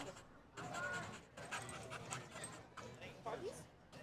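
Three dogs pant quietly outdoors at a college sporting event, soft rhythmic breathing with faint whimpers, close but low, under a commentator's talk.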